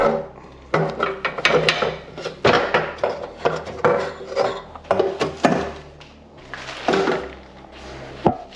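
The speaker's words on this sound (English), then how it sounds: "Right now I'm working on taking off the headers." Exhaust headers being unbolted and pulled from a Honda Civic EK9 Type R engine, with close, irregular metallic scraping, rasping and clunking bursts, brief pauses between them, and no talking.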